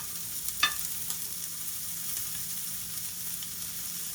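Bean patties sear in a hot pan after flipping, producing a constant close sizzle with one sharp clack of a spatula near the start and a few faint crackles.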